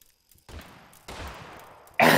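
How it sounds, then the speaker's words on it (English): Gunfire in the video game Totally Accurate Battlegrounds comes as a few sharp, close bursts, with one at the start of the sound, another in the middle and a louder one at the end, and quiet gaps between. "Wait, are we actually shooting at each other?"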